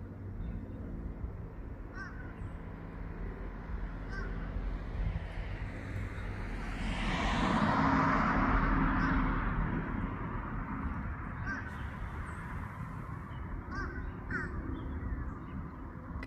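Crows caw among other birds in a lakeside park in Indiana, scattered harsh calls at moderate distance over a steady outdoor hiss that swells in the middle, probably a passing vehicle or wind.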